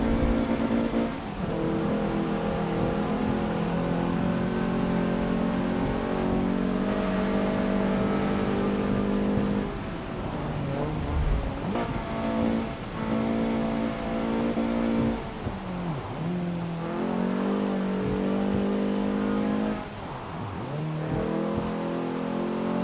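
Race car engines in Forza Motorsport 7 roar continuously and loudly, a steady high-revving drone with rising and falling pitch as gears shift, close and sustained throughout without talk.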